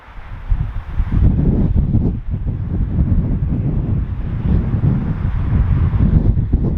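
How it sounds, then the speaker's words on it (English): Strong outdoor wind buffets the microphone, giving a continuous low rumbling roar that surges and dips throughout, with no voices. "Yeah, that wind has picked up. I don't know how much wind noise you're getting."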